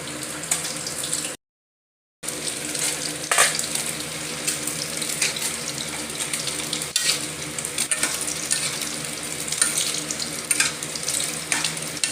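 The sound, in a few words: curry boiling in pot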